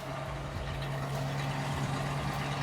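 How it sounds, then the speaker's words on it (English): A Chevrolet 3100 vintage pickup truck engine with a new exhaust runs at a steady, mild idle with a low rumbling drone, constant and unbroken from start to finish. "Sounds pretty mild, runs really well, brand new exhaust."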